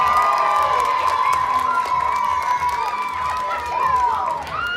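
A school crowd of children cheers, whoops and shouts loudly at a St. Baldrick's head-shaving event, with a sustained roar of voices, a little clapping underneath and a whistle-like tone running through it.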